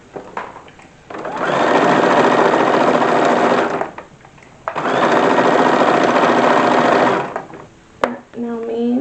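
A sewing machine hems and gathers a ruffle on an 1870s wool dress, running in two long, steady, loud bursts of several seconds each with a short pause between, followed by a brief clack and a voice speaking at the end.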